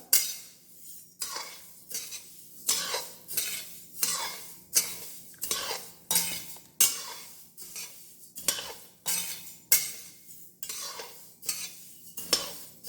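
Coriander seeds dry-roasting in a pan for fresh sambar podi are stirred in a regular rhythm, each pass a scraping rattle of seeds and utensil against the pan, repeated a dozen times at close range.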